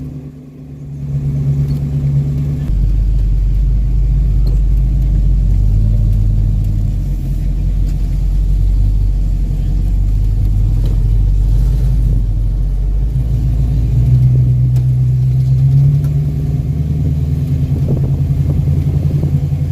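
A 1974 AMC Javelin drives on a NASCAR track at Rockingham, its loud, deep engine rumble droning steadily close by, easing briefly before pulling hard again.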